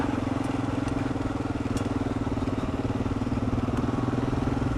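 A Kawasaki KLR650 motorcycle engine thrums steadily and close by while the bike rides on dirt, with a constant low throb and no talking.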